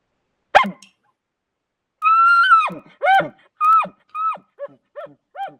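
A human voice imitates an elk's bark chuckle call: one sharp bark, then a pause, then a run of descending throaty yelps that grow shorter and quieter, loud and close.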